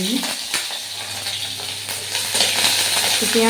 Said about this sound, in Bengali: পাঁচ ফোড়ন দিয়ে এর মধ্যে দিয়ে দিলাম একটু পেঁয়াজ